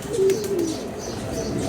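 A lively female pigeon gives a short low coo up close, a single brief call over steady background noise.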